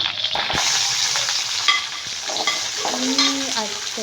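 Shallots fry in hot oil for a rustic Kerala chammanthi, giving a dense, close crackling sizzle with occasional utensil scrapes and small metallic clinks.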